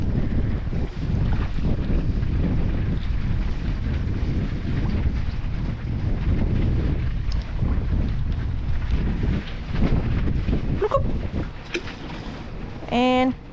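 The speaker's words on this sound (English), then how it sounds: "you can see how windy it is. It's blowing the flags" Strong wind blowing across an Atlantic Beach, North Carolina fishing dock in cold winter weather, a constant loud roaring buffet against the microphone, with water washing below and a few brief creaks and tones near the end.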